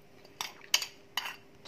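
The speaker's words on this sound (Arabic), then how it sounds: "عندي 2 معالق كبار ديال زيت العود ندير فيهم لاصوص، نخلط مطيشات الحك ومطيشات القطرية" Tomato paste, olive oil and tomato sauce being mixed for a pizza sauce: quiet, close metal spoon clinks and scrapes against a bowl in three short strokes, with no talking.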